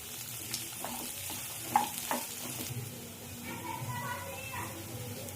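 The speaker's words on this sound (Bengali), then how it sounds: "এগুলো আমি হালকা করে 2 মিনিটের মতো ভেজে এর পেস্ট তৈরি করে নেব মিক্সচারে" A soft sizzle of ginger, chillies and cashews frying in a pan, with occasional stirring clinks and light spatter, fairly quiet and continuous.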